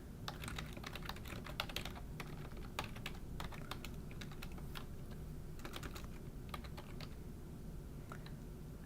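Someone types on a computer keyboard up close in quick, uneven bursts of clicking keys, separated by short pauses, over a soft steady background hum.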